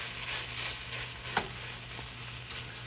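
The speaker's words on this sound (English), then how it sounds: "Okay, y'all, we got this kind of sauteed up." Spinach sautés quietly in a pan with a soft, continuous sizzle, with one small clack of a utensil partway through.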